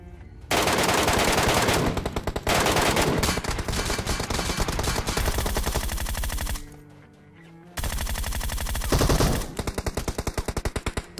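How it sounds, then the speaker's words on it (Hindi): Heavy automatic gunfire from a PUBG Mobile match: loud, dense bursts of rapid shots keep going almost without pause, with a short lull near the middle before another sustained volley and sharp single cracks at the end. "तगड़ी वाली फायरिंग स्टार्ट हो जाती है"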